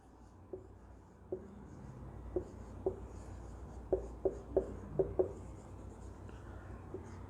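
Chalk taps and scrapes on a classroom board while a chemistry definition is written, a series of short clear knocks in an irregular rhythm, close and fairly soft against quiet room noise.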